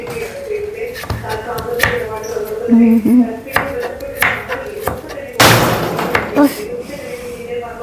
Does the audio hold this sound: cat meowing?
no